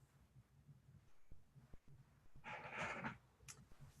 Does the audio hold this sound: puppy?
yes